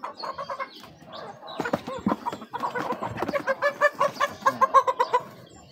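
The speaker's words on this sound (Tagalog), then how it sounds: "Malalaking manok po ito." Rhode Island Red chickens, a flock of about six or seven months including three roosters and four hens, cluck close by in a busy overlapping chorus, with quick rhythmic clucking runs growing louder and more regular toward the end.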